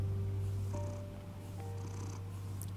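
A cat purrs steadily and up close in the Batman Telltale video game, a continuous low rumble with faint soft tones drifting above it, and no voices.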